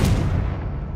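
A Confringo spell blast in the Hogwarts Legacy video game: one loud, close, booming burst that hits at once and rumbles on for a second without dying away.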